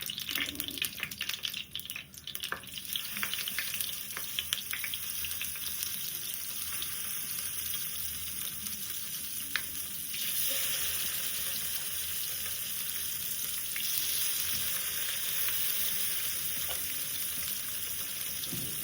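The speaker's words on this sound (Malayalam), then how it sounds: "അപ്പം അത് ഫിഷ് ഫ്രൈ ചെയ്യാം. അപ്പം ഞാൻ എണ്ണ ഒഴിച്ചിട്ടുണ്ട്." Fish frying in hot oil in a home kitchen gives off a steady, crackling sizzle that runs on without a break, heard fairly quietly and close by.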